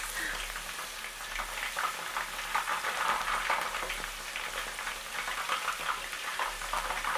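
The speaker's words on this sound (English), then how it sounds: "I think I like the sound of anything frying." Cooking oil sizzles and crackles steadily in a pan while frying popcorn chicken, close and continuous, a dense frying hiss with small popping spits throughout.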